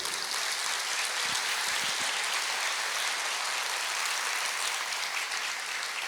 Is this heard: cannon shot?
no